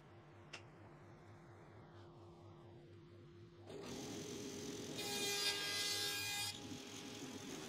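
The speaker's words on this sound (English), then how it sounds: "Now I'll try again and make sure to cut the dados in the right place this time." Dados are cut into wood for a workshop cabinet. A quiet, low workshop hum gives way midway to a loud, steady grinding cut that swells and then continues.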